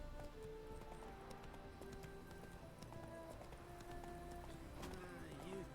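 Horse hooves clip-clopping at a run in The Witcher 3, a quiet rhythmic patter of game footfalls with faint tonal game sounds, under a low background.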